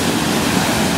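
Ocean waves at the beach in Ocean City, heard as a continuous loud rushing wash of surf mixed with wind noise on the microphone and no talk.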